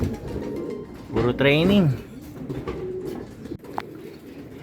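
Racing pigeons coo in a loft, one bird giving a clear rolling coo up close while someone talks quietly over faint background rustle.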